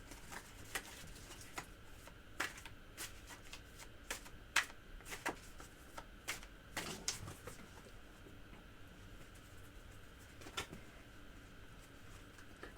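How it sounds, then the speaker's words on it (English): Tarot cards riffle-shuffled by hand, quick clusters of crisp flicking clicks and patters repeating in irregular bursts, faint and close against a quiet room. "I haven't riffled the cards all session, but I did now for the earth signs"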